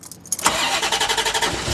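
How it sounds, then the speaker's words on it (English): A C4 Corvette ZR-1 engine cranks briefly and catches, then settles into a loud, steady, throbbing idle close by. "Let's do a bit of engine running."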